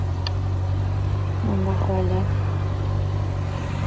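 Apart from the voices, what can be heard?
car engine warming up while idling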